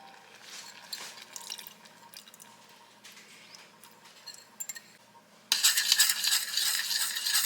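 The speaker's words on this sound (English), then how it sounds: "You want to get that flour slurry stirred around in your blueberry pie filling." Flour slurry is stirred into boiling blueberry pie filling, with soft wet scraping and occasional clinks of a utensil against the pot, followed by a sudden loud hiss of sizzling bubbling over the last two seconds.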